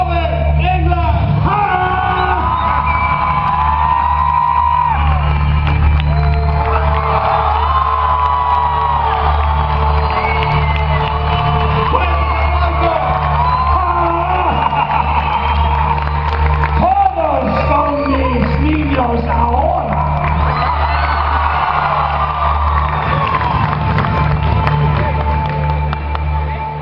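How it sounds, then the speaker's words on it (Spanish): Argentina Comic Con crowd greeting horror legend Robert Englund on stage with loud, sustained cheering, whoops and shouts over a continuous low hum, with voices mixed through the roar. "el aplauso y la ovación para la leyenda del terror, Robert Englund"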